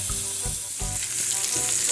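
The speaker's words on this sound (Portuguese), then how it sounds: "Coloquei a linguiça para fritar agora" Steady hiss of linguiça sausage frying in a pan, with a few low clunks and scrapes as it's stirred, fairly close and continuous.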